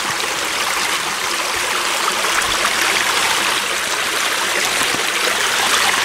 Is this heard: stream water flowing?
yes